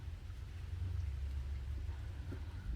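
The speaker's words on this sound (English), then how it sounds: "We're getting so much rain and it's amazing." Steady heavy rain falls in California, a dense continuous wash with a low rumbling undertone that may be distant thunder, with no voices.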